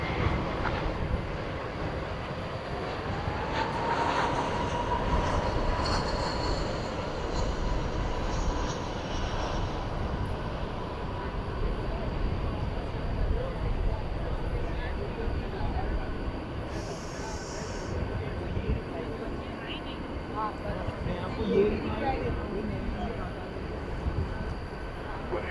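A jet takes off at DFW Airport at night, a broad sustained engine roar rising and holding steady at a moderate distance for over twenty seconds, with faint radio chatter now and then.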